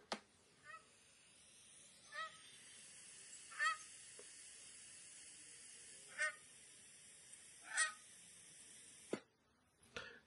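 A Canada goose honks several times at spaced intervals, fairly distant and faint, against a quiet outdoor background.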